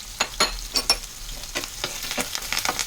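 Curry leaves and green chillies frying with brinjal and onion in a pan, crackling sizzle with quick stirring scrapes and pops, close and fairly loud, no talking.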